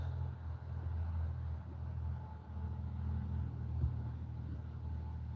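A truck passing on a road, heard as a steady low rumble of engine and tyres that swells slightly near the end, fairly loud and continuous with no talking.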